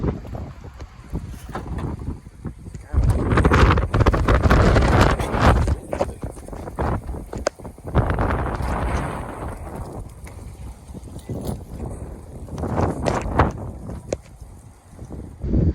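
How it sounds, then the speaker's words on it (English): Strong gust of wind buffeting an outdoor microphone, rising in heavy roaring bursts that swell and fade over several seconds, loud and close with no talk. "That was quite a gale of wind, as the writer would say, or gust."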